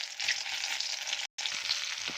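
A continuous moderate sizzle comes from moringa drumstick pods frying in a little oil in a kadhai over gas, broken by a very brief silent gap midway, with no one talking.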